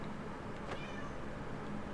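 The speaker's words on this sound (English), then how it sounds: "Oh, I hear the forlorn meow." A faint, plaintive cat meow in the video game Deadly Premonition rises briefly out of a steady background hiss, quiet and somewhat distant.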